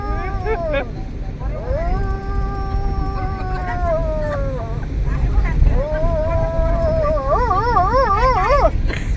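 A man imitates a dog howling in reply, with long, rising and falling wavering howls in several drawn-out phrases, the last one quavering strongly, over a constant background murmur.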